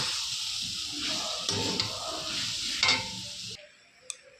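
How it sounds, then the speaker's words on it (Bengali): Potatoes and mushrooms fry in spice paste with a close, loud sizzle and scraping stirs, ending abruptly in near silence. "এখন আর একটু ভেজে নেবো হালকা করে"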